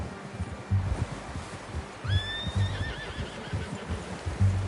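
A horse in the video game Red Dead Redemption 2 whinnies with a rising, wavering call over soft, rhythmic hoof thumps and rustling, fairly close by.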